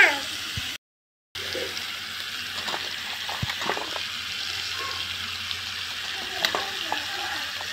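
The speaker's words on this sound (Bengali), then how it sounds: "তেলে পটলটা ছাড়লাম, সব কিছুই সবজি ছেড়ে দেবো। একটু হালকা করে ভেজে নেব।" Pointed gourd and mixed vegetables fry in oil with a steady, moderate sizzle. Scattered stirring knocks and clinks sound over it, and the audio drops out briefly near the start.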